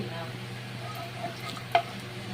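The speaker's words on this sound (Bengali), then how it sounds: "কড়াইতে তেল বসিয়ে দিয়েছি আর ফোড়ন দেব দুটো এলাচ এক টুকরো দারচিনি আর দুটো লবঙ্গ" Whole spices (cardamom pods, a piece of cinnamon and cloves) frying in hot oil in a wok, a steady low sizzle with a single sharp clink near the end, no talk.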